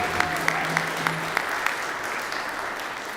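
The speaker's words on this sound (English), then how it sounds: "So how about another round of applause?" At a holiday concert, an audience gives the beginning band a continuous wash of applause, steady and moderately loud, with a few sharper claps standing out early on.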